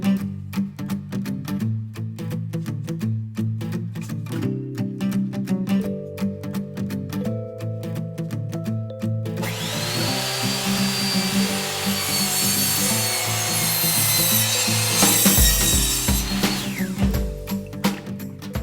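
A hand saw cuts through leftover rough-cut wood siding, a close, loud rasping stroke sound repeating steadily before it smooths into a continuous grinding rush that ends abruptly, with no talk.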